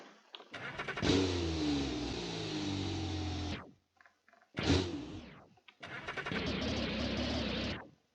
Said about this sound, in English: oh my god, my engine is turning off.